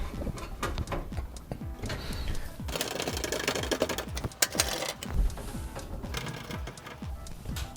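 Motherboard screws are driven into a PC case during an AMD Athlon 200GE upgrade build, giving a run of close, rapid mechanical clicks and ratcheting taps with brief rustles, steady throughout and with no talk.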